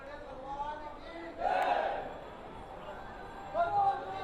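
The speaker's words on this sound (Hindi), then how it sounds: "ये जयकारे उद्घोष आप वो सुन सकते हैं" Devotees at Dudheshwar Nath Shiva temple in Ghaziabad on Sawan Shivratri chant 'Bam Bam Bhole' in a crowd, with two swelling group shouts rising over a murmuring throng and a nearby voice.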